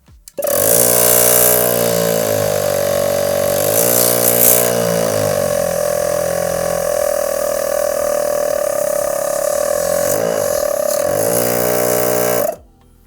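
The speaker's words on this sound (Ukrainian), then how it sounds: "Давайте вимкнемо компресор, послухаємо, як буде спрацьовувати." A compact Poputchik 13-011-IS-D car air compressor starts abruptly, runs as a loud, steady buzzing whine for about twelve seconds with slight shifts in tone, then cuts off suddenly, with no one speaking.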